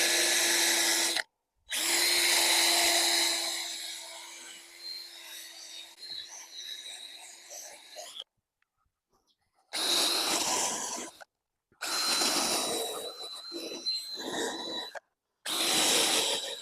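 Flap disc on an angle grinder working the body of a lawn mower, a loud whining grind in several bursts separated by short pauses, with a steady tonal motor whine through each pass.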